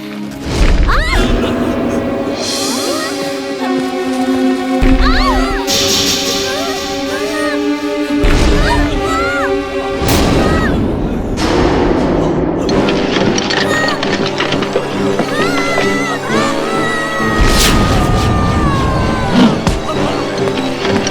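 In an animated cartoon scene, meteors crash down as a string of loud booms and thuds that punch through busy music and characters' voices.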